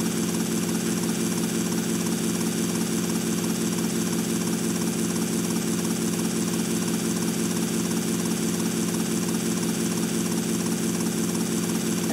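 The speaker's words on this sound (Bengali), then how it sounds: "হেলিকপ্টার নিয়ে ডিয়াজের বাড়ি যাচ্ছি, কত তাড়াতাড়ি যাওয়া যাচ্ছে একটু দেখুন।" A helicopter flies in the video game GTA Vice City, its engine and rotor producing a dense, unchanging mechanical drone, loud and continuous throughout with no voices.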